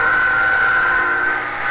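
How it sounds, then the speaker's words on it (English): A train passes close by, giving a loud, sustained horn-like tone over a continuous mechanical rumble for the whole moment. "Train."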